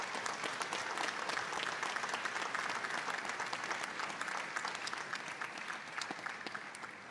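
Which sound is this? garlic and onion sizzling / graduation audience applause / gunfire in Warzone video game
graduation audience applause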